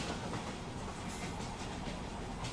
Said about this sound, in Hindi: वसई रोड से चर्च गेट के लिए धीमी लोकल अभी हमें क्रॉस कर रही है